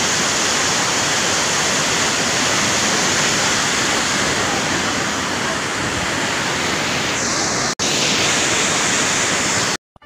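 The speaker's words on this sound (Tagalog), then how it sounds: "Pag matanaw din ang may tubig di dito sa pagawas, pagawas na ho. Pagdagan ng tubig na." Floodwater rushing loudly after a night of flooding, a continuous broadband roar like a waterfall that fills the whole clip, with a brief break near the end.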